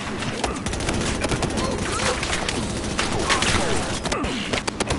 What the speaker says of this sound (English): Okay, they're still shooting.